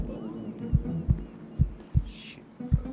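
Heartbeat sound effect from the video game GTA RP, a run of deep, heavy thumps pounding close and loud in a steady rhythm, about five beats in a few seconds over a low background hum.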